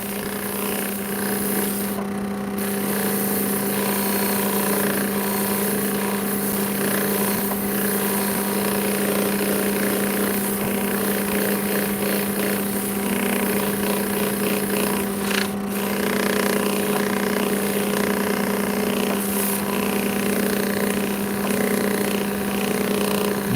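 A power tool hums steadily and loudly while sanding and cutting opal, a continuous whining drone with a few brief dips, close and alone with no talking.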